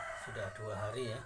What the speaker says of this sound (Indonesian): ayam saya yang kena penyakit ngorok ya